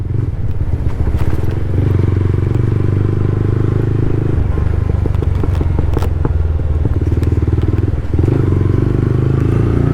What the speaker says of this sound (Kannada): ಸುಮ್ಮನೆ ಸ್ವಲ್ಪ ಕ್ಲಚ್ ಬಿಟ್ಟರೆ ಸಾಕು, ಫುಲ್ಲು ಬ್ಲಾಸ್ಟ್ ಆಗ್ತಿದೆ, ಟಪ ಟಪ ಟಪ ಅಂತ